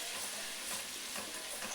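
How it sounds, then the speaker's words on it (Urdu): Ginger and garlic frying in cooking oil for chicken karahi: a constant, hissing sizzle close by, fairly even in level with faint stirring textures, with no voices. "اور اس میں پہلے ہم نے ادرک لہسن ڈالا ہے، اس کو ہم تھوڑا سا فرائی کر لیں گے"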